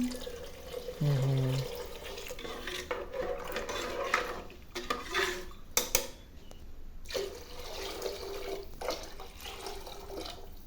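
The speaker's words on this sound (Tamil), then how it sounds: "அடுத்தது தண்ணி தேவையான அளவு ஊற்ற பாருங்க." Water is poured from a jug into a cooking pot for tamarind rice in a home kitchen, giving a gurgling, splashing pour of a few seconds, then fainter trickles and handling noises at moderate loudness.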